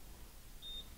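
A single thin electronic beep from a facial treatment device with four probes, faint and steady, sounding briefly near the end over a low background hum.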